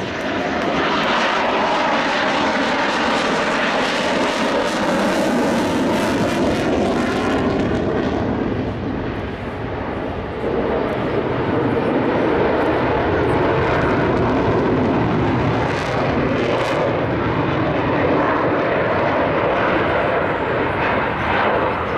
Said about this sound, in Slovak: Takto na minimálke letí lietadlo F-16.